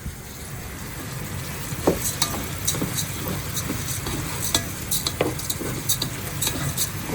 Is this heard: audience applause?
no